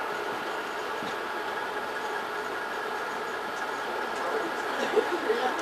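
An Alaska passenger train with dome cars rolls slowly along the tracks, giving a continuous steady rumble and hiss of the railroad car in motion, with faint clicks toward the end.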